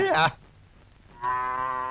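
A cow lows with one short moo, a quiet gap, then a second long, steady moo that carries to the end, close and clear with no talk over it.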